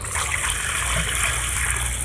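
Water is poured steadily over fish with lemon during washing for a village-style fish curry, making a continuous close splashing trickle with no breaks.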